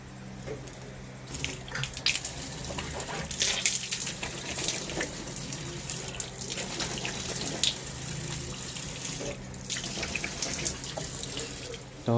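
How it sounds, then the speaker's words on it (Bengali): Water runs steadily from a household tap in a continuous splashing stream, fairly close and unbroken for the whole stretch, with no talk over it. "এই যে আমাদের কল"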